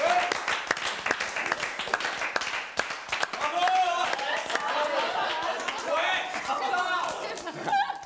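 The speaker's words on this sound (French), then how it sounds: "Messieurs, dames, veuillez applaudir Kimi." A French TV studio audience claps and cheers for a loft contestant, with bright, busy applause mixed with shouts and chatter that keeps going the whole time.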